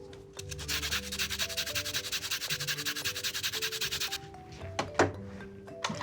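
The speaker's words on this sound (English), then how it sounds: "we're gonna add a little bit of lime zest" Lime zest is grated for a key lime pie filling, giving a quick run of close, rhythmic scraping strokes that stop abruptly, followed by a few soft knocks.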